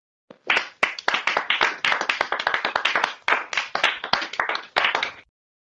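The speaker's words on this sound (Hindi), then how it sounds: "बच्चे तालियां बजाने लगे।" Clapping from a small group of children as a story sound effect, a quick run of bright, irregular hand claps that starts abruptly and stops after about five seconds, alone and close.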